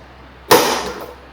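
A single sharp hammer strike on a metal center punch marks a drilling spot during work on a Volvo S40, a loud clanging hit that rings briefly and fades with no talk.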